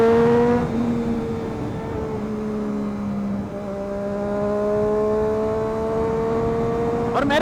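A Triumph Daytona 675 sport motorcycle engine hums steadily with a droning exhaust note that shifts pitch slightly, ending in a brief rising rev.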